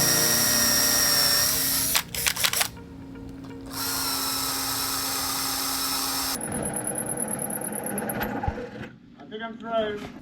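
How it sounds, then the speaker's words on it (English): A power drill bores pilot holes into a wooden boat hull near a diesel tank, with a steady close whine broken by pauses, restarts and bursts of shifting motor pitch. "Last pilot hole, and we're drilling near the diesel tank"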